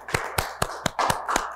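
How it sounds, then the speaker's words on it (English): Audience at a talk about end-of-life care giving a short round of applause, heard as sparse, evenly spaced, crisp claps that sound close and distinct. "Could I ask for a quick round of applause for my wonderful guests?"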